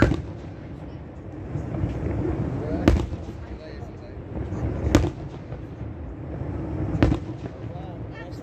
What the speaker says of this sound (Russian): красивый салют